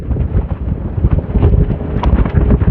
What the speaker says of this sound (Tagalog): Napakalakas ng hangin, ha.